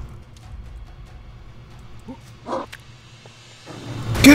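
Video game dogs in Broforce attacking, with yelps and short barks over a low background rumble, a few sharp bursts and a louder noisy swell at the end.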